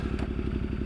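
A Ducati Multistrada on Continental TKC80 tires, a brief close burst of steady engine drone with a quick mechanical clack partway through.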